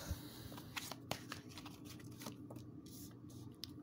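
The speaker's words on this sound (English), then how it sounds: "Let's pull some tarot cards." Tarot cards being shuffled and pulled from the deck, a steady run of soft, papery riffling and flicking close up, with no talking over it.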